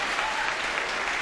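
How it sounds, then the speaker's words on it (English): A studio audience at a TV game show breaks into loud, dense clapping, a steady wall of applause filling the brief moment without voices. "They were clapping."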